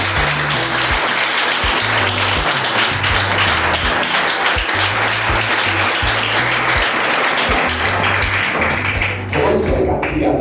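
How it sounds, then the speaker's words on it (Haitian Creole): Church congregation applauding loudly and continuously, a dense rhythmic clapping with steady low thumps for about nine seconds, then the applause thins briefly at the end. "Est-ce que vous voulez applaudir Saint-Esprit,"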